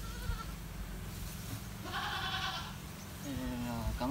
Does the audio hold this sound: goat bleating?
yes